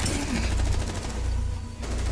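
Rapid automatic gunfire rattles in the video game Rainbow Six Siege, a dense run of close shots that briefly pauses near the end before resuming, with no voices.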